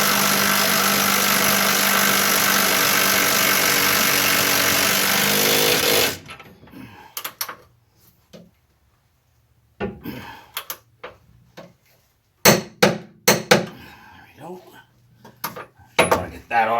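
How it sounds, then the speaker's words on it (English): Impact wrench running up leaf-spring shackle bolts on a Chevrolet Squarebody truck, a loud continuous buzzing burst for about six seconds, then stops, followed by scattered clanks of tools and parts. "I'm just going to run them up with the impact first and then snug them."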